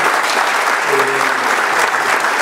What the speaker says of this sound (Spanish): yo pido acompañarlo con un aplauso